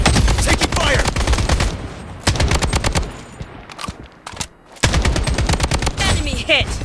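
Gunfire in the shooter game Project BloodStrike: loud, close bursts of rapid automatic fire in rhythmic volleys, broken by short pauses and a quieter gap near the middle.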